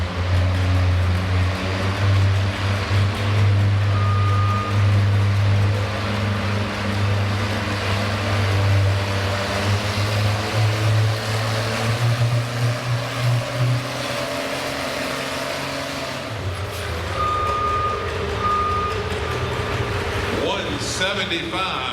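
Red tractors roar at a winter tractor pull in Chatham, Virginia, a heavy engine drone that holds loud for a stretch then shifts, with an announcer talking over the noise.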